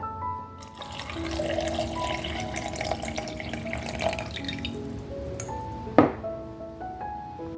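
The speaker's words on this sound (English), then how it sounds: "We're going to add some water and then we're going to just blend." Water added to a blender jar for a turmeric, ginger, pineapple and mango smoothie: a close trickle and drip of liquid filling the container, ending with a sharp clink near the end.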